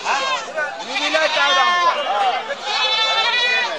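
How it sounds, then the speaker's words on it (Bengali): Many goats bleat almost without pause at a busy goat market, overlapping wavering cries loud and close, forming a dense chorus that fills the whole stretch. "এই দেখেন কত ছাগল"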